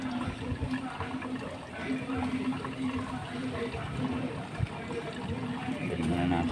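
Water mixed with gasoline draining from a motorcycle fuel tank after a carburetor cleaning, a steady trickling, splashing flow heard close up throughout, with a low hum underneath.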